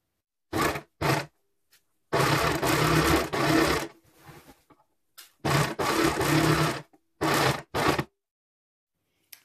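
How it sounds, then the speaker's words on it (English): An overlocker stitches along the long straight edge of a king-size duvet cover, running loud and close in several bursts of varying length with short silent pauses between them. "the overlocker was just having a funny 5 minutes then"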